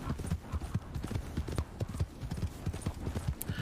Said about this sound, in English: I'm just going to get on my horse and go to the next mission